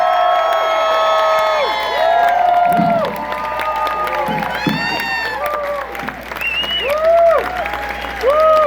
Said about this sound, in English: Charlene, Patrick, Linda, and Steve, give them a big round of applause